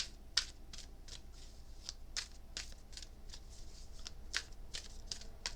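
Playing cards shuffled during a card reading: a quiet run of crisp, papery riffles and flicks in irregular bursts, with no voices.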